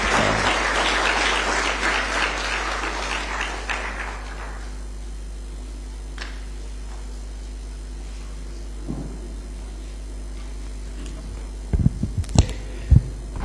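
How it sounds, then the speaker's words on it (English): Audience applause for the chief guest at a university graduation ceremony, a broad wash of clapping that fades out over the first few seconds, leaving a quiet hall with a few faint taps and knocks near the end. "Let's give him applause."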